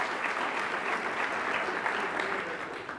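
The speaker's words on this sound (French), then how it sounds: "Donc, applaudissons la catégorie or." Banquet guests at an induction ceremony applaud a gold-category honoree, a full, even wash of clapping that continues steadily from start to finish.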